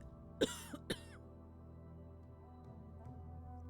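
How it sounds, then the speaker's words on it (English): A mother coughs in the video game Demonheart, two short, sharp coughs close together at the start over a quiet, low background hum. "If it weren't for her cough, I might have not have noticed her."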